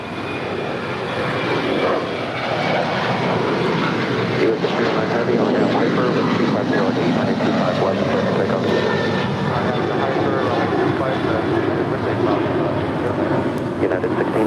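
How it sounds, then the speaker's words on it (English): A five-year-old Spirit Airlines Airbus A320neo landing at LAX after a flight from Chicago, its broad engine roar loud and steady throughout as the jet rolls out near the runway, with faint voices mixed underneath. "That is Spirit Airlines Flight 1359, just landed from Chicago. It's a 5-year-old Airbus A320 Neo."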